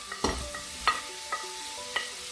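Onions and Scotch bonnet pepper cooked for a coconut curry with king prawns are stirred in a pan, four or five distinct spoon scrapes and taps over a quiet sizzle.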